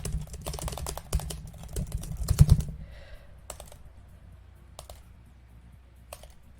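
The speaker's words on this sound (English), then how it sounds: "Oh, I'm absolutely hammering the keys." Rapid, forceful clacking of computer keys in bursts, loud and close, then thinning out into sparse, isolated key presses.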